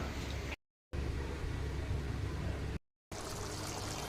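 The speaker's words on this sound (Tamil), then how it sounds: "இன்னும் கொஞ்சம் தண்ணி சேர்த்துட்டு மூடி போட்டு நம்ம குக் பண்ணி எடுத்துக்கலாம்" Water pours steadily into chicken masala gravy in a cooking pot, a soft continuous trickle and splash, close and quiet, broken by two brief silent gaps.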